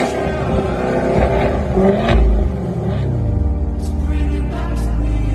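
Deep rumble of a supercharged 6.2-litre V8 in a Cadillac Escalade V, revving up and settling back in a close, steady engine drone, with no talking.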